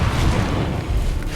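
Confringo fire spell exploding in the Hogwarts Legacy video game, a brief loud rumbling boom that fills the moment with dense low roar.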